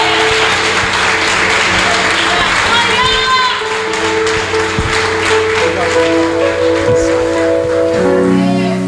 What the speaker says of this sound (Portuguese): As palmas louvam ao Senhor nesta noite.